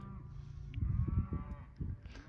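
A cattle herd out in a field on spring grass gives low, close lowing and moos, several overlapping calls over a steady rumble of the animals.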